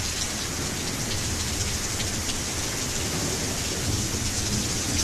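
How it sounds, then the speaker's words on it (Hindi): Heavy rain pours steadily on surfaces while thunder rumbles low underneath, a constant, loud wash of sound without any speech. "ये बारिश"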